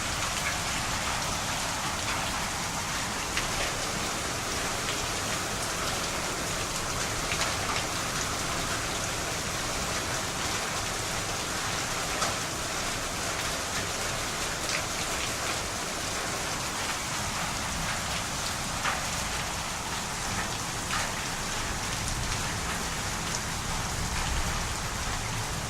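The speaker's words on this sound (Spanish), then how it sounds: "Viento, lluvia y tormenta." Heavy rain from a storm with wind pours down steadily as a dense, constant hiss on surfaces, loud and unbroken throughout, with no voices.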